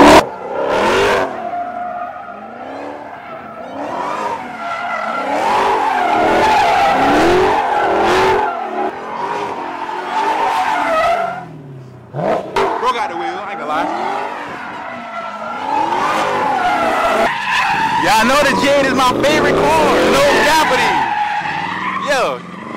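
A car slides with tires skidding and squealing for long stretches, the engine roaring loud and close while voices talk and shout over it.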